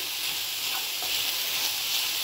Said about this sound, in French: Et là je vais rajouter la carotte râpée. Et je hop là et je remue.